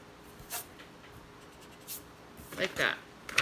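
A pencil eraser rubs out drawing lines on paper, making brief scratchy strokes in a few short bursts against a quiet background.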